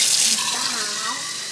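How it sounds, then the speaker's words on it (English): Tap water running into a water bottle being filled at a kitchen sink, a steady hissing splash with a faint rising gurgle as the bottle fills, continuous and close. "he's just filling his other water bottle that he'll drink through the day"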